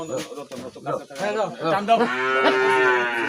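A cow led by a rope at an Eid slaughter moos loudly and close by, starting with short grunting calls and swelling into a long, drawn-out low bellow.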